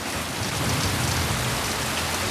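Heavy summer monsoon rain pours down in a dense, loud, continuous hiss and patter, a steady close downpour with no pauses and no voices.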